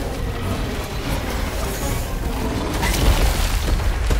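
Missile explosion in the Fight for Prosperity video game, a dense rumbling boom with crackling debris that swells louder toward the end.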